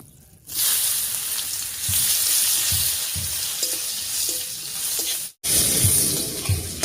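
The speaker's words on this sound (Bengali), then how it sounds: "এবারে দিয়ে দিচ্ছি পেঁয়াজ কুচি।" Chopped onions hit hot oil already holding fried black cumin and dried red chillies, bursting into a loud, steady sizzle with intermittent stirring scrapes and a brief pause near the end.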